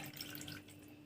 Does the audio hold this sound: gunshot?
no